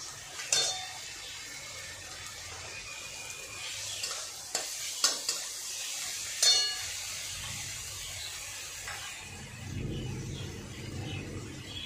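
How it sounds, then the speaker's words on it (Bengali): Garlic and chillies sizzle in hot oil for a poached egg curry, a steady close frying hiss broken by a few sharp utensil clinks and stirring scrapes, with a louder burst of sizzling near the end. "এবার রসুন আর লঙ্কাটা দিয়ে দেব।"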